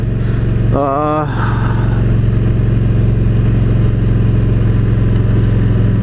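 A motorcycle engine drones steadily and loudly while riding, a constant rumbling hum with wind, interrupted near the start by a brief voiced sound.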